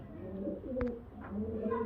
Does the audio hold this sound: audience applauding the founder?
no